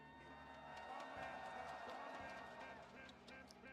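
An esports arena crowd at a MIBR versus Gen G match gives a mild, half-hearted cheer, a steady diffuse roar of voices with scattered shouts that never swells into a big ovation.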